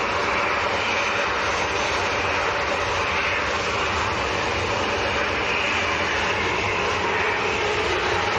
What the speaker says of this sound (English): Another one of Jet2's new aircraft just arrived in the background as well.